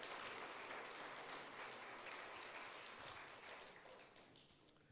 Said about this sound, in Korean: 해피 파더스 데이 하면서 박수는 칠 수 있잖아요